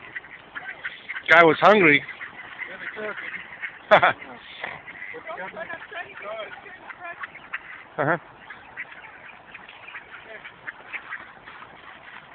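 Ducks quack in loud bursts near the microphone, with a clustered run of calls early on and single quacks later, while someone speaks briefly over quieter background noise.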